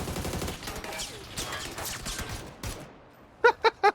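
Machine gun fire in the video game PUBG: a quiet stretch of scattered game noise, then three sharp, loud bursts in quick succession near the end.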